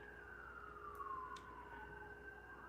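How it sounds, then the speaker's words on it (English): An emergency vehicle siren wails outside at a distance, a single steady tone sliding slowly downward, moderately faint against a quiet background with no one talking. "Sirens."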